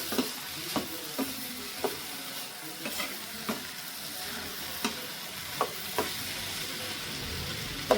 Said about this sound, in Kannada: ಹಾಗಲಕಾಯಿನ ಆ್ಯಡ್ ಮಾಡ್ಕೊಳ್ಳೋಣ. ಇದನ್ನು ನೀಟಾಗಿ ಮಿಕ್ಸ್ ಮಾಡ್ಕೊಳ್ಳೋಣ.